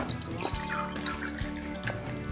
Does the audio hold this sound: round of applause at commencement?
no